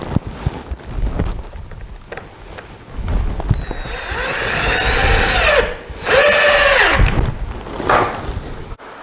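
Power drill driving deck screws into wood while building a squirrel feeder: short bursts of rising and falling whine, one after another, close and loud, with no talking.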